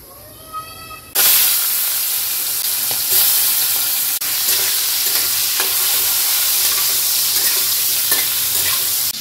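Onion greens, prawns and potatoes fry in a wok. After about a second of near quiet, a loud, steady oil sizzle takes over with a few light stirring clicks, and no voices.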